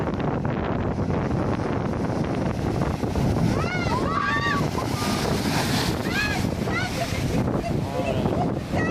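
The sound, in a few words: ocean waves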